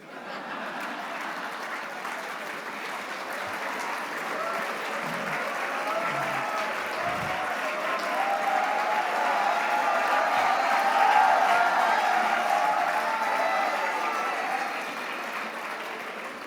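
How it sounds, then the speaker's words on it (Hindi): Audience applause at a diamond jubilee celebration at a school academy, dense sustained clapping from a large hall crowd that swells gradually and stays steady for many seconds, with little talk. "फिर भी इनके नाम पे ताली बजती है।"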